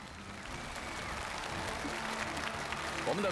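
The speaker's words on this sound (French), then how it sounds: "Et applaudissements pour Chang Yuli" Studio audience applause rises on a Chinese television challenge show as a jury member is introduced, a fairly soft, steady clatter of many hands over a low background hum, with a faint voice or tones near the end.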